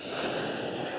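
Large ocean waves breaking and surging along a wide beach between Tamarijn and Bucuti resorts in Aruba, a steady close roar of surf mixed with wind buffeting the microphone, no speech.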